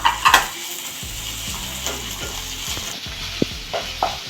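Onions with ginger garlic paste frying in a pan, a close, soft sizzle under repeated scraping stirs and a few sharp clinks of a spoon against the pan, no talking.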